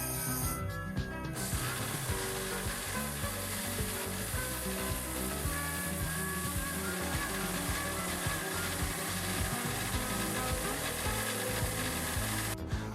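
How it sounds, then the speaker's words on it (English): A large belt sander works a wooden box, a continuous loud gritty whir with rhythmic scraping pulses as the piece is pushed back and forth, alone without voices. "I'm lucky enough to have a large belt sander, and that removes a multitude of sins."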